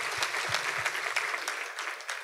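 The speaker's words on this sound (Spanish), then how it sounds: "denle un aplauso a este hombre" A crowd claps steadily, a dense patter of many hands with no voices over it.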